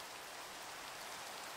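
Rain falls in the video game Minecraft as a faint, even, unbroken hiss with no other sounds.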